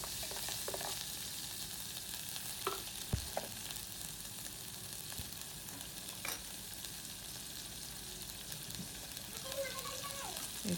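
Onion, garlic, ginger, salt, turmeric, chili and other spices frying in oil in a large cooking pot, a steady broad sizzle with occasional scraping and stirring clinks, close and fairly quiet throughout.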